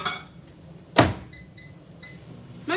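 A microwave softening butter for turkey lasagna: a sharp thunk of the door or button, then short electronic beeps in a quick series, followed by another click, in a quiet kitchen.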